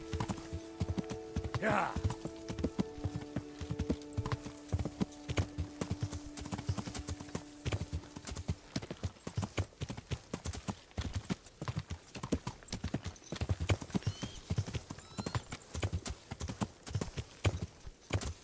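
Horse hooves clip-clop steadily in the medieval game Kingdom Come: Deliverance, a rhythmic trotting beat running throughout with a brief whinny early on and someone speaking briefly over it.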